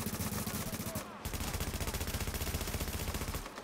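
Rapid automatic gunfire in The Division during a duo legendary mission, a continuous stuttering burst of shots with a brief pause, loud and dense with little talk over it.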